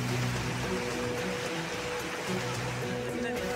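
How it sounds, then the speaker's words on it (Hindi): Steady, continuous rain pours down during a spell of flooding and landslides, a dense even hiss that holds at the same level throughout with no pauses. "लगातार हो रही बारिश लोगों के लिए मुसीबत खड़ी कर रही है।"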